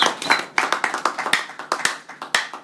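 A church congregation applauds in a steady, rhythmic clap, about five beats per second, near and lively, with no voices over it.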